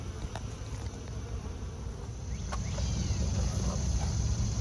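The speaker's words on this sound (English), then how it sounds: "Bees at the top, always good." A dense, steady hum of honeybees swarms around an open hive, close and continuous, swelling slightly louder toward the end over low outdoor rumble.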